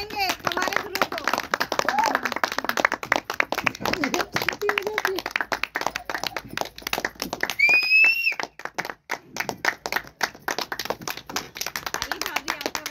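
An indoor meeting audience claps loudly to welcome their guru, a rapid, dense burst of many hands with children's and adults' voices and a brief whistle mixed in before the clapping thins out near the end.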